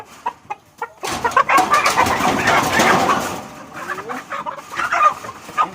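Chickens cluck and squawk in a busy, agitated burst while a bird is caught and restrained for slaughter, the calls loud and close and continuing for several seconds.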